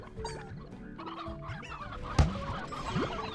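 Hens cluck repeatedly in the video game Slime Rancher, with busy overlapping clucks and short squawks up close, set against game ambience and a sharp rising effect partway through.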